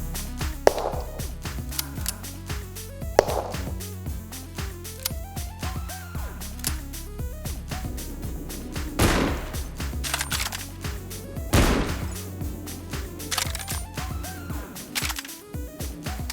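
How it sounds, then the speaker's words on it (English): Sunshine Shorty shotgun blasts in a VR game ring out one after another at irregular intervals, with sharp clacks and mechanical pump-like clicks in between, played over a steady tonal background. "Let's listen to how much less satisfying it is to use the Sunshine Shorty with weak sounds versus strong ones"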